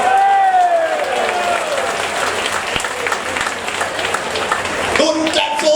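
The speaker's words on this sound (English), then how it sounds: "Don't clap so loud." Applause and cheering from a crowd at a DAP fundraising dinner in 2017, loud and dense clapping under a voice speaking over a PA, swelling again near the end.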